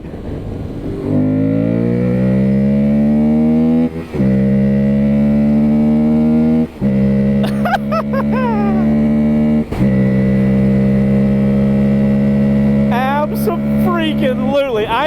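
A Yamaha Tenere 700 or Aprilia Tuareg 660 motorcycle engine revs hard on a road, rising in pitch through several gear changes with short dips between them, loud and close, while a rider's voice comes through faintly at times.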